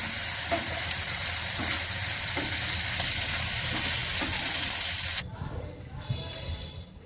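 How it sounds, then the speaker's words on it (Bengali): Dry red chillies tempering in hot oil for a kachu shak with prawns: a loud, steady crackling sizzle that fills the first five seconds, then suddenly drops to a quieter, uneven hiss. "শুকনো লঙ্কা ফোড়ন করছি"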